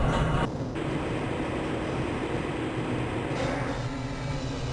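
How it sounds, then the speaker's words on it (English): Rumbling, clattering rail car of the Black Mesa transit system in Half-Life: Blue Shift, a steady close rolling roar with a brief shift near the start and a change in tone toward the end, no voices. "This train is inbound from the Area 8 topside dormitories to the Central Transit Hub in Area 9"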